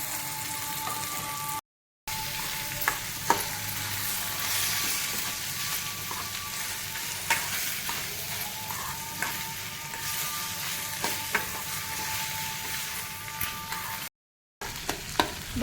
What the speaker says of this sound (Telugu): దీనిలో వేసిన ముల్లంగి, ఉల్లిపాయలు, టమోటా, పచ్చిమిర్చి అన్నీ బాగా వేగేంత వరకు చెంచా పట్ట తిప్పనే ఉండాలి